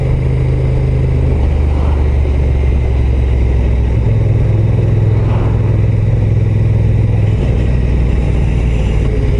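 A Honda NT 1100 DCT motorcycle engine in sport mode holds a loud, steady high-rev drone with shifting pitch bands, close and continuous throughout, with no voices over it.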